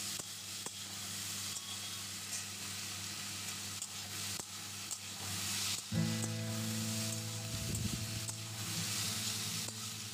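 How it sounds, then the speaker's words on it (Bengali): Red amaranth stems fry in a pan with a soft, steady sizzle while being stirred, faint and continuous, with a low hum joining partway through. "ভালো করে নাড়াচাড়া করব।"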